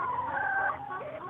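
Laying hens on an Indonesian egg farm cluck steadily in a close, continuous stream of overlapping calls, with no voices over them.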